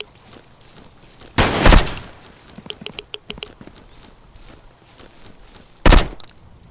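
Gunfire and footsteps in the top-down shooter Zero Sievert: two heavy, loud shots a few seconds apart, with a run of light, quick patters and clicks between them.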